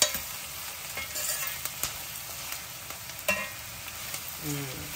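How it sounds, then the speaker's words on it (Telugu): Onions sizzle in a pan for prawn curry, a steady hiss of frying with scattered crackles and scraping stirs, close and fairly quiet. "ఇప్పుడు కొంచెం ఉప్పు వేసి ఉల్లిపాయలు వేగే వరకు ఉంచుదాము"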